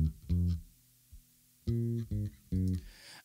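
DI-recorded bass guitar run through a software amplifier plugin, playing a few low plucked notes: a short phrase, a pause with a faint sustained tone, then three more punchy notes, up close and alone.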